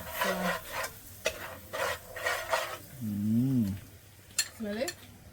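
Garlic stirred in a pan for shrimp pasta, with scraping, rasping strokes of a utensil against the pan in uneven bursts, interrupted by short hummed voice sounds.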